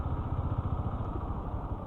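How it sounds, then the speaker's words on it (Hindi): Motorcycles ride over iron plates laid on sand at the Maha Kumbh in Prayagraj, a low, pulsing engine rumble with some clatter, fairly close and steady, with no voices. "इस रूट पे सिर्फ बाइकर्स ही चलते हुए दिखाई दे रहे हैं"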